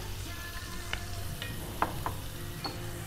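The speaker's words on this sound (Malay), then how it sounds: "So we just saute." Shiitake mushrooms sautéing in butter with herbs and chili flakes in a hotel training kitchen: a steady low sizzle with a few light utensil clicks and scrapes, fairly quiet and continuous.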